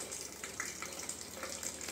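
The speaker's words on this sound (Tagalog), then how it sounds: "Ito, i-drain ko na siya. Ito ang kanyang tubig sa container." Water pours steadily from a Hanabishi water dispenser container as it drains, a continuous close gushing stream.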